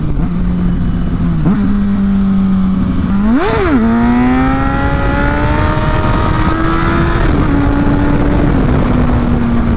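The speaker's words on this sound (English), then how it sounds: "Slow this baby down here, see if we can pop a little wheelie." A 1000cc motorcycle rolls off the throttle, then snaps open for a wheelie, its engine note jumping sharply before settling into a loud, steady drone as the bike holds speed, wind noise constant throughout.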